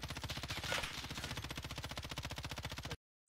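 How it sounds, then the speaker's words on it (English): Gunfire in the video game Warzone, a rapid, steady burst of automatic shots firing in an even rhythm for about three seconds before cutting to silence, fairly quiet and heard alone. "People are shooting over by Boneyard"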